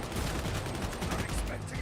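Rapid gunfire in the video game Darktide, a dense loud stream of repeated shots filling the whole stretch, with a voice faintly mixed in.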